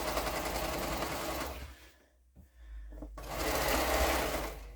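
Close, steady whir of a sewing machine stitching quilt fabric, stopping for about a second midway before running again at full speed.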